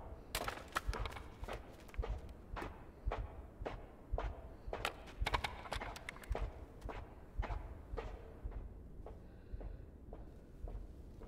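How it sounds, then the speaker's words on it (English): Footsteps echo in the video game INSIDE, a steady run of soft, close thuds with an irregular rhythm and a faint reverberant tail. "Footsteps dampen."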